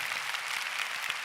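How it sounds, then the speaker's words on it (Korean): A church congregation at a Korean Sunday worship service claps briefly; the dense, even clapping lasts about a second with no voices over it. "한번 일어서 주시면 박수하겠습니다."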